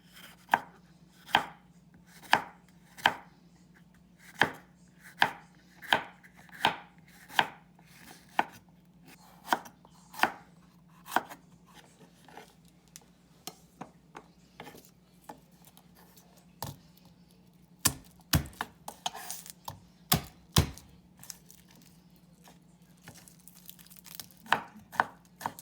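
A knife slicing a green bell pepper on a cutting board, making a steady series of crisp, close chops at roughly even intervals, then a quicker irregular flurry of cuts toward the end.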